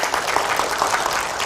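Congregation clapping in church as applause for God, a brief burst of many hands in a fairly even patter, moderately loud with no talk over it.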